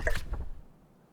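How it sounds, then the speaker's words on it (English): Dandelion wine poured in Book of Hours, a brief soft liquid splash and drip that quickly fades to quiet. "Should probably pour the dandelion wine at this point."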